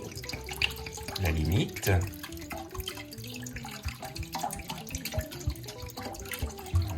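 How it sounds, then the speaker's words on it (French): Water is poured from a tap into a cooking pot while endives with ham and cheese are prepared, giving a steady splashing trickle under a speaking voice. "Et on va ajouter évidemment de l'eau."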